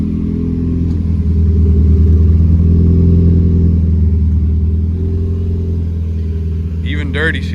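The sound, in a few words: Mazda Miata drift car engine warming up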